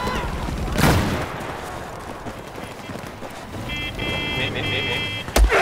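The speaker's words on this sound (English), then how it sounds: "Someone shooting me." Gunfire in the Battlefield 4 video game on the Guilin Peaks map: a loud near shot opens, followed by busy rumbling battle noise, beeping game tones and another sharp burst of fire at the end.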